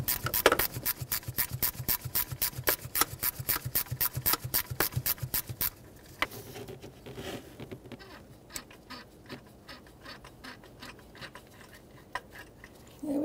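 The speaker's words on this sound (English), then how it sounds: "I got a ratchet wrench, see if I can make it go a little faster." Ratchet wrench turning a bolt during a belt tensioner replacement on a 2005-2021 Nissan Frontier 4.0L V6: a fast, steady run of sharp clicks for several seconds, then slower, irregular clicks and scrapes, close and clear.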